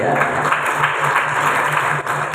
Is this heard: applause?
yes